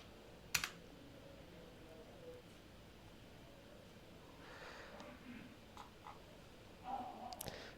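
Fingers type on a computer keyboard while entering a kubectl command in a terminal, with light, uneven clicks and short bursts of keystrokes, quiet and close, and an occasional louder tap.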